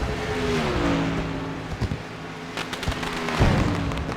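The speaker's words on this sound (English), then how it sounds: "Fireworks go off." Fireworks crackle and pop in a car racing game at the Auto Club track after a race win, a scatter of sharp bursts over a steady engine drone.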